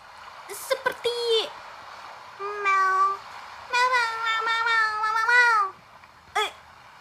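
A cat meows repeatedly in a dubbed story about a strange fish from a lake, a series of loud, close, drawn-out wavering cries with short gaps between them.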